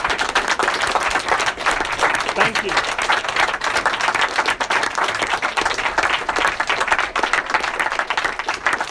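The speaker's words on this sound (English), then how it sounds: "I advise instead that we give everyone a round of applause for coming." Warm, sustained applause from a university debating audience at the close of a Cambridge debate on meat, with crisp nearby claps throughout and a brief spoken thank-you over the clapping.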